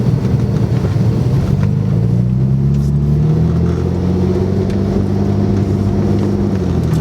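A 2008 Porsche 997 911 Turbo driving in hot sun, engine note climbing smoothly as it accelerates, a steady close drone with rising pitch and no talk.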